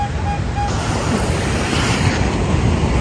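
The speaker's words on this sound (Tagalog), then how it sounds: "Ganda ng alon dito." Steady roar of ocean surf on a beach in La Union, with broadband wash and rumble filling the whole stretch, roughened by wind buffeting the microphone; no speech.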